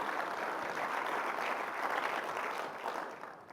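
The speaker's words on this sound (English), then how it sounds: "So big round of applause for Hitachi." Audience applause at a tech conference session, a steady wash of many hands clapping from a distance that fades slightly toward the end.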